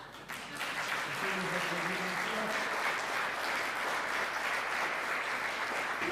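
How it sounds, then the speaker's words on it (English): Applause from a conference audience during the closing session, a dense, even wash of clapping that starts abruptly and holds steady, with faint voices underneath. "On peut les applaudir encore"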